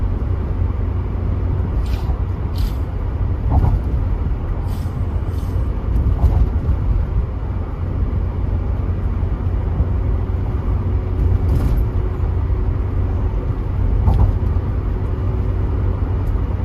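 Cars slowing and queueing on the elevated Mohamed bin Zayed toll road in Jakarta, heard as a steady low road and engine rumble from inside a moving car, with faint passing thumps and no voices.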